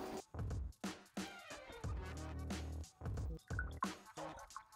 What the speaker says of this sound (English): Doing my own special kind of pour over.